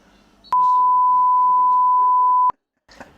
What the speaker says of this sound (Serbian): Pa ćemo da stavimo bip.